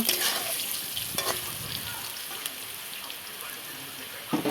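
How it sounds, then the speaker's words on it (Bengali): Potatoes fry until reddish in a pan for a rohu fish curry, making a steady crackling sizzle. Spoon scrapes and clatters land now and then, loudest at the very end. "আলুগুলোকে লাল লাল করে ভেজে নেওয়া হলো"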